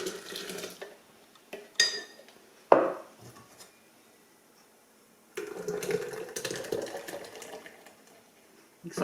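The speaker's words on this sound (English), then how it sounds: "I'll pour it all into a nice little pitcher." Blended, liquefied beet juice is poured from a blender into a small pitcher in a home kitchen, a few splashy pouring bursts separated by quiet gaps and clinks, close and moderately loud.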